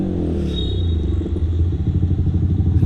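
A motorcycle fitted with a loud exhaust rumbles close by, its engine throbbing in a low, pulsing rhythm that grows a little choppier toward the end.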